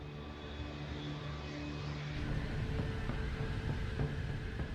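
A Boeing 747 jet airliner of Japan Airlines climbs after takeoff, a distant, steady broadband jet roar that swells slightly partway through, with no voices.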